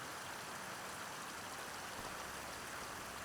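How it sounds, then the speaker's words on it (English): Steady, faint broadband rush of falling water from a waterfall in the farming game Farming Simulator 25, continuous and even throughout with no distinct events and no voices. "the sound off the waterfalls are pretty cool as well"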